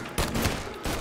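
Rapid gunfire bursts from a Thompson submachine gun in the video game Mafia Definitive Edition, loud, close and continuous, with brief gaps between volleys.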